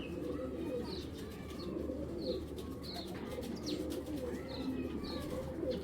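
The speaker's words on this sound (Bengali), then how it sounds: "কবুতরটা প্রায় পাঁচ বছর উপরে হবে চার পাঁচ বছর উপরে হবে" A Giribaj pigeon coos repeatedly in soft, rhythmic phrases, close by, over a low background rumble, with no talking.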